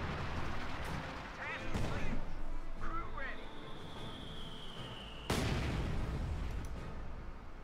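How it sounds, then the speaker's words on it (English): Artillery fire in the video game Company of Heroes 2, heavy booming blasts and rumbling impacts at intervals under battlefield noise, with a voice commentating over it. "we see a great artillery round taking out some units"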